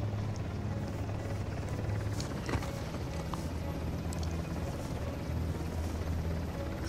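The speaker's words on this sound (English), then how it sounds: "the helicopter, it just flew into its new position behind us" A continuous rumbling helicopter drone with a steady rotor chop from the video game Uncharted: The Lost Legacy, constant in loudness, with occasional mechanical clicks over it.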